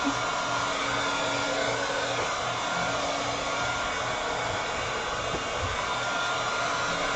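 A hair dryer runs in a steady, loud whoosh, drying a lavender-painted basket before stamping, unbroken throughout.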